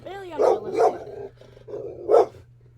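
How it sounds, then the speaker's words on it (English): A pet dog barks three times close by, two quick barks followed by a third after a short pause, over a low steady hum. "My dog gonna keep on barking?"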